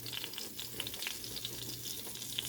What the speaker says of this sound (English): if you can hear my oil, it's hot. I'm gonna start adding my flour